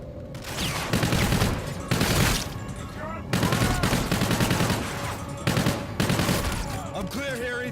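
Sustained gunfire in the shooter game Call of Duty Infinite Warfare, with dense bursts of automatic fire and booming shots repeating across the whole stretch, loud and close, with game voices talking over parts of it.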